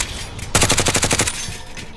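A rapid automatic burst of gunfire from the video game Warzone rattles off about a dozen shots in a tight rhythm, loud and close, then cuts off abruptly into quiet background.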